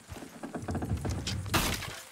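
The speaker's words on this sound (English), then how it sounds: "Horses will pull it clean down." In Red Dead Redemption 2, horses pull a wooden structure down; rapid creaking and cracking build into a sharp, bright crash of splintering timber near the end, close and moderately loud.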